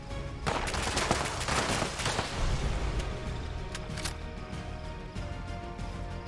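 Gunfire in the video game Fallout 76, a dense, sustained volley of shots and bursts running loud throughout, with a brief heavier cluster near the start and no talk over it.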